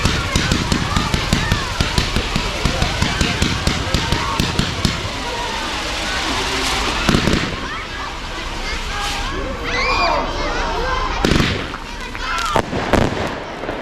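Public fireworks display in Liverpool with Trifork, comet and crossette cake bursts, a rapid rattle of popping cracks followed by scattered louder booms and crackles, with someone talking over them.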